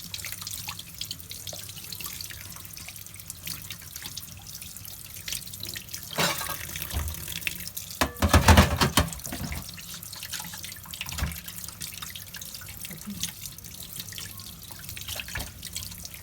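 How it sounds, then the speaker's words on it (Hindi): Fish being washed under a running kitchen tap, a steady stream of water splashing and trickling into the sink with a louder burst of splashing midway, heard close with no talking. "किस तरह ये मैं धो रही हूँ। इसको अच्छी तरीके से धोना है।"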